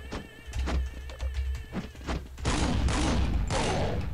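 The Flame Jackhammer weapon fires in Counter-Strike Online: loud, rapid, punchy blasts at first, then a dense, sustained roar of fire, close and dominant.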